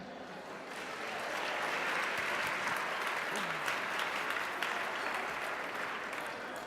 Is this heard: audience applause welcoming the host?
yes